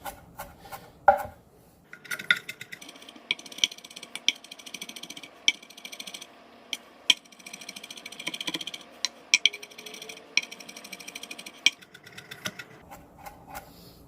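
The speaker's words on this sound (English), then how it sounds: "we're going to chop this up extremely fine" A knife chopping an ingredient very finely on a cutting board, quick irregular taps coming in bursts, close and crisp with soft scraping between.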